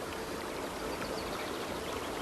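Fast-flowing river water rushing steadily and close by, a dense even broadband roar with no voices, heard on a fishing trip.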